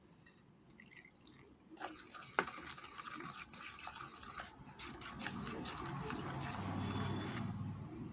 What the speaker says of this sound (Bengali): এবার এই জলটা দিয়ে অল্প অল্প করে নিয়ে একটা ব্যাটার তৈরি করে নিতে হবে।